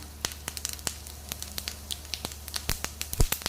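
Urad dal and cumin seeds sizzling in hot oil, with sharp irregular crackles and pops over a low frying hiss, close and fairly loud, no voices.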